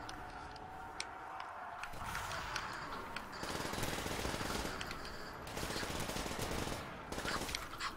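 Rapid gunfire crackles in a Call of Duty custom zombies game, with bursts of automatic shots coming in stretches over a continuous background of game noise.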